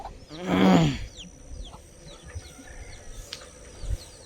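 A hen and her chicks in a Tamil Nadu village: one loud, close cluck near the start, then faint chirps and calls over quiet rural background.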